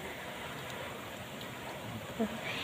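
Heavy rain pours down over a village in Tasik, a steady broadband hiss of falling water, even and moderately loud throughout with a faint bump near the end.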